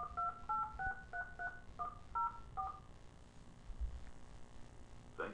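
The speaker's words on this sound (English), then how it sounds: "And I will then dial into the platform again." A phone dials into a calling platform, a quick run of about eight clear touch-tone beeps followed by a quiet line hiss and a faint click.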